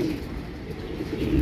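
Racing pigeon cooing at the loft as it arrives during a race, a low soft coo rising from steady close ambient noise over about a second and a half, no talk.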